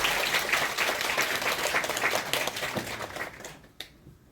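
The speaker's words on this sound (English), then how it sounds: "could you with warm applause welcome the Professor Wells lectures" Warm applause from a lecture audience welcoming a professor to an academic talk, dense and steady clapping that thins out and stops near the end, leaving a few last claps.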